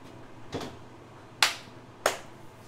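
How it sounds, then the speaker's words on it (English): Three sharp, separate hand claps spaced unevenly across a quiet kitchen setting during a cooking session, the first softer and the last two crisp and close. "I know I clap a lot, right?"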